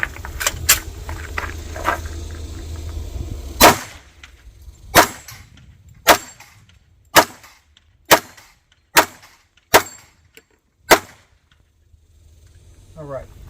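Shots from an HK P30 pistol, a slow series of about nine loud, sharp reports spaced roughly a second apart, with faint handling noise between them.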